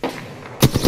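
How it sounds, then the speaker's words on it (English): Video game gunfire aimed at the player: a few sharp, loud shots cracking in quick succession near the end, after a stretch of lower rumbling background. "Oh, I'm getting sniped. Getting shot at."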